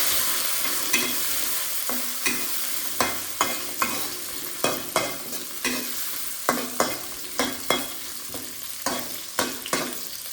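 Carrots stir-fried in a pan with fragrant, wilted spices for a bottle gourd vegetable sauté, a continuous sizzle broken by a steady run of sharp spatula scrapes and taps, close and fairly loud, with no talking.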